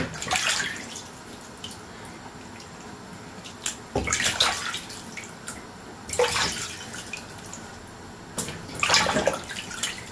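Fish being washed by hand in water while being cleaned for marinating, with intermittent splashes and sloshing bursts over a running-water background, close and moderately loud.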